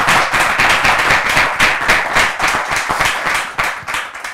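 A church audience applauds heartily, a dense, loud, continuous wash of many hands clapping close by, with sharper individual claps standing out throughout.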